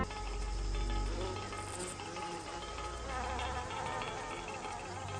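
Flies buzz in a garden with a steady insect drone, and other insect calls blend in throughout.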